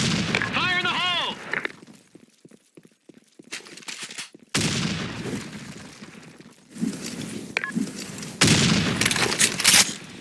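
A grenade blast and bursts of gunfire ring out in a desert map of an online shooter, with loud sharp explosions and rattling shots interrupted by a short synthetic radio-style voice cue and gaps of quieter rumble.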